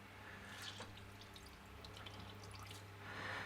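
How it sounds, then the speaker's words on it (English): Water drips and trickles from a squeezed homemade white air-dry clay mixture, faint scattered droplets and splashes over a low steady background hum. "what I'm going to do is squeeze out quite a bit of the water"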